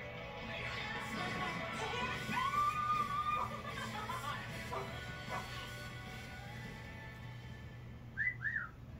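A man whistles at a woman: a drawn-out whistle, then a quick two-part rising wolf whistle near the end. Both sound against a steady, busy background murmur.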